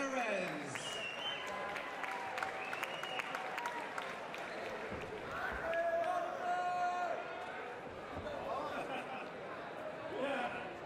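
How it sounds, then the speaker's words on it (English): Arena crowd applauds and cheers for boxer Gabor Veres after a main-event bout in New Jersey, steady clapping with shouts and voices talking over it throughout. "Please give a round of applause to Gabor Verez."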